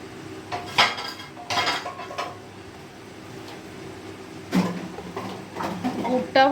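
Grated coconut cooks in a kadai for coconut naru, with a metal utensil clinking and scraping against the pan in several separate knocks over a quiet background.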